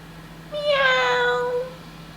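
A human voice imitates a cat's meow: a single drawn-out, tonal meow lasting about a second, clear and close, with no other sounds around it.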